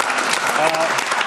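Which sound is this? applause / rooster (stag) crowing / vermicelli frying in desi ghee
applause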